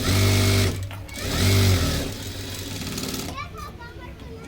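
Two short runs of a sewing machine stitching a blouse whir up close, followed by quieter handling of fabric and someone speaking over the room tone.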